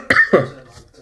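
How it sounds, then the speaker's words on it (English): Two quick, sharp coughs close to the microphone, followed by a faint breathy sound. "Oh, I have a cough."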